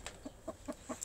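A chicken in an African village clucks in a quick run of short, close, fairly soft calls, about five in a second, with no talk.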